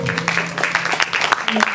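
An audience at a live Hindi music show of evergreen hits breaks into rapid, uneven clapping. The applause is moderately loud and close, over a faint steady hum.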